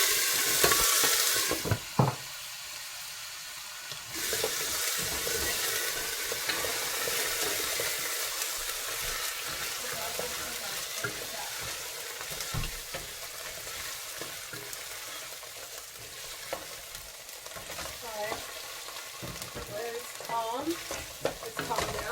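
Diced, drained potatoes fry in a pan with a steady, loud sizzle and crackle, and a spatula scrapes and stirs them now and then. A louder burst rings out at the very start.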